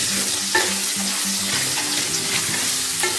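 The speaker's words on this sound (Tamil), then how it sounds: "இதெல்லாம் சேர்த்து நல்லா வதக்கிக்கலாம்." Cashews, garlic, shallots and onions sauté in hot oil for a Chettinad tomato kuzhambu, a close, loud sizzle broken by repeated scrapes and clatters of a spoon stirring.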